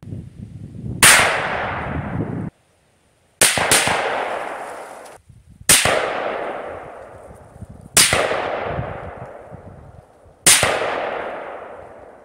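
Unsuppressed AK74 in 5.45 and AR in 5.56 rifles fire five loud, sharp shots roughly two seconds apart, each report followed by a long reverberant decay, with no talking.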